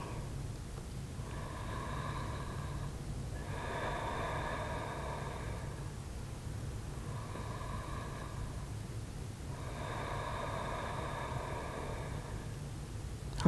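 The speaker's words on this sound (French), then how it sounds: "On reste ici 5 respirations." Slow, deep breathing during a yoga pose, a soft close airy rhythm of long inhales and exhales repeating about four times over a low steady hum.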